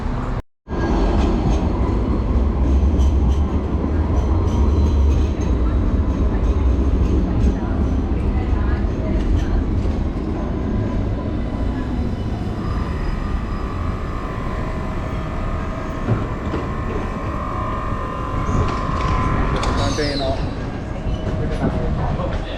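A tram rumbles steadily nearby in Sydney, pulling in and then rolling along, with a continuous low drone and some faint voices in the background.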